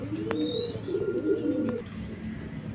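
Pigeons cooing at close range in a pigeon loft with young birds, low throaty coos running steadily through the short stretch over a constant background hum.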